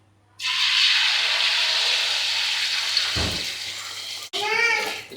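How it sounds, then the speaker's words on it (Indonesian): Eggs frying in a pan give a loud, steady sizzling hiss that runs unbroken for about four seconds, then cuts off abruptly before a brief voice is heard. "kita goreng telur"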